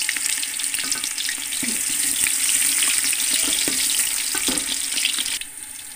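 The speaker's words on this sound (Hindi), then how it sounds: "ये प्याज फ्राई हो गए हैं।" Onions frying in hot ghee, a steady dense sizzle with crackles and occasional stirring clatter, fairly loud and close, with no talking.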